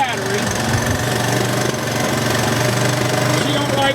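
An old Honda engine, jump-started from a battery, idles while it warms up, a steady close rumbling drone with a rapid knocking pulse that holds the same level throughout.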